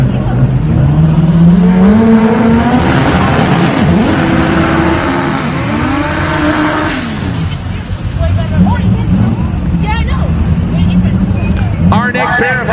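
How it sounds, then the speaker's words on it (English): Honda drag race cars idle and rev loudly at a drag strip as they pull out of the burnout boxes, a continuous engine roar with rising and falling pitch under a track announcer's voice. "Our next pair of Hondas out of the burnout boxes and getting prepared."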